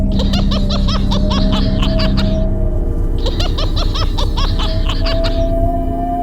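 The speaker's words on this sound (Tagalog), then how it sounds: "narinig ko mula sa tikalayuan ang hagikik ng bata." A child's shrill, high giggling rings out in repeated bursts from a distance in a horror story setting, with a steady low drone beneath, pausing briefly before another run of giggles.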